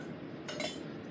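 Ginger and garlic being mixed in a bowl give a short scrape and light clink of a utensil against the dish, quiet and close, with no talking.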